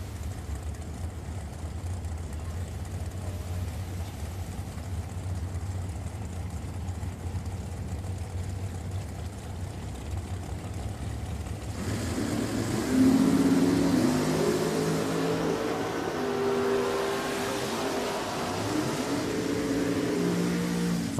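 A dragster and a Camaro at Richmond Dragway, with a low idling rumble that gives way to a louder, rising engine roar partway through, sustained and somewhat distant.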